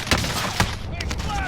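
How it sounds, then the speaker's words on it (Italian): Gunfire in the video game Warzone: a few sharp, rapid shots crack out close and loud over a busy game background. "Mi sparano da dietro."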